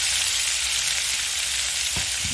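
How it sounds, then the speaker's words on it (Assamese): Cut potatoes dropped into local chicken meat frying in a pan, a steady loud sizzle throughout with a brief thump and burst of crackle near the end as the pieces land. "এতিয়া মই কাটি থোৱা আলুখিনি দি দিম।"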